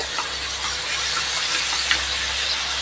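Ginger garlic paste fries in a pan while mutton biryani is being prepared. A steady, close sizzling hiss continues throughout with no speech.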